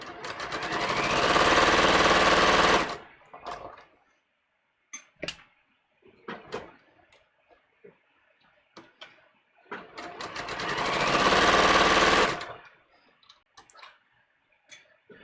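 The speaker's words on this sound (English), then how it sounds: "I am just sewing at a 1/4" A sewing machine stitches a collar at a quarter-inch seam in two loud, sustained runs of about three seconds each, separated by quiet handling clicks and taps.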